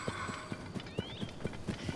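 Black horses in the video game The Legend of Zelda: Tears of the Kingdom trot past, steady hoof clip-clops at an even rhythm, with a brief whinny-like call over ambient game music.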